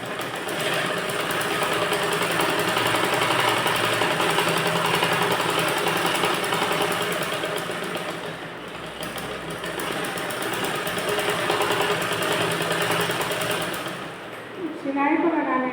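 A sewing machine stitches a princess-cut blouse in a steady, rapid, rattling run that lasts nearly the whole stretch, easing briefly in the middle and dropping away near the end.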